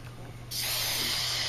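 Hairspray sprays in a steady hiss onto a quilt being basted, starting abruptly partway through and continuing close and loud over a low background hum.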